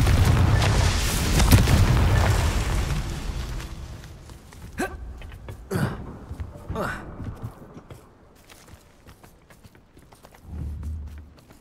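Confringo fire spell blasting in Hogwarts Legacy: a heavy rumbling burst at the start, then several sharp separate cracks and thuds, with a low thump near the end.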